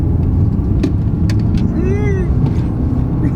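A 2019 BMW 318d diesel drives on the road with its transmission in sport mode, giving a steady, loud engine and road rumble throughout while a person talks over it.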